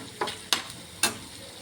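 Fenugreek leaves being stir-fried in a pan: a few short scraping stirs over a faint sizzle, three quick strokes spaced apart, close by with no voices.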